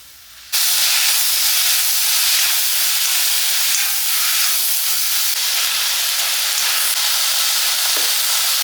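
Tomatoes with onion and green chilli for egg curry sauté in a pan, giving a loud, steady hiss and sizzle that starts abruptly and continues evenly to the end.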